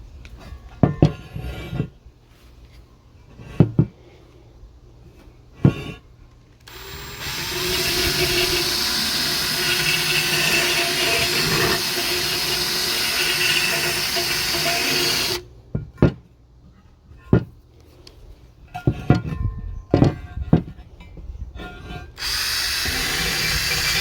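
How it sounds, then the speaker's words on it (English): A power drill with a grinding wheel whines steadily, lightly stripping paint from a C3 Corvette upper control arm, between bursts of knocks and taps as it starts and stops. "What I've got is just this grinding wheel hooked up to my drill"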